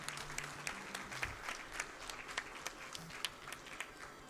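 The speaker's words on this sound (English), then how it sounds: "Everyone clap." Audience applause closing out a Mike Tyson's Punch-Out!! speedrun session: a steady patter of many hands clapping at moderate, fairly distant volume, with faint low tones humming underneath.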